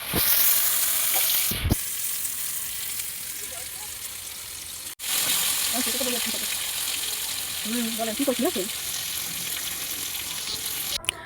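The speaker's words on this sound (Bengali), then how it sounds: "এবার এই মাছগুলো সম্পূর্ণ ভেজে নেবে, ভাজার পর মশলা দিয়ে কষিয়ে নেবে।" Fish frying in oil gives a steady sizzle with a brief break partway through and some soft stirring clatter, fairly quiet and close.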